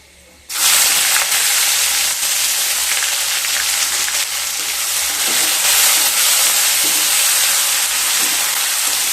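Two sliced onions hit hot oil with spices in a pan and break into a loud, sudden sizzle. The bright hiss holds steady for several seconds, close by.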